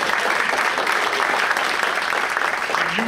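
A church audience clapping for Mark after a Sunday service performance, loud, close and sustained, with no letup across the stretch.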